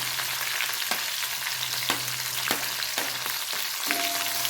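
Green chillies fry in hot oil for a bitter gourd curry, giving a dense, continuous sizzle close up, with a few soft stirring scrapes and a low steady hum beneath, no voices.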